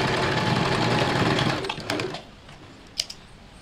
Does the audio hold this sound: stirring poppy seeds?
no